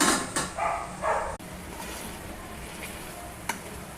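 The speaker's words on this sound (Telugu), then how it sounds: "చికెన్ అయితే ఉడుకుతుంది ఫుల్గా ఫ్రెండ్స్" Chicken cooks in a pan with coriander powder, garam masala and green chillies, giving a soft sizzle with a few quick stirring scrapes and clatters near the start, then a steady low frying hiss.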